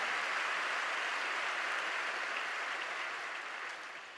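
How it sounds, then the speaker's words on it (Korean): A church congregation applauds at a Sunday worship service, a dense, even wash of clapping that holds strong, then starts to taper off near the end. "영광의 박수 올리겠습니다."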